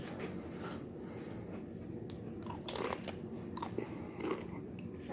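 Close, loud crunching and chewing of jalapeno-flavored Fritos corn chips, with steady repeated bites and a few sharper crunches, and no talking.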